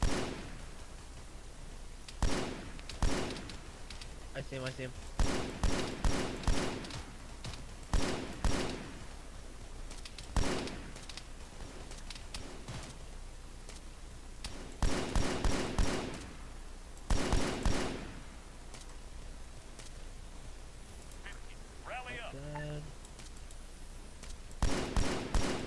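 A jungle firefight in Arma 3 brings repeated bursts of rapid automatic gunfire, some single cracks and some long volleys, separated by short lulls, with a faint voice showing up briefly.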